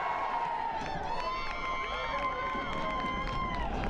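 Fans in the stands at an NCAA first-round field hockey game between Rowan and Hartwick College cheer and shout together in a sustained, layered crowd roar, with individual voices rising above the din.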